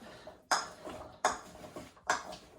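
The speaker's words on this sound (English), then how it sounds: "Stir that up." A spoon clinks against a bowl or pot while ingredients are stirred in a kitchen, three sharp metallic scrapes and taps spaced about a second apart, close and clear with no voices.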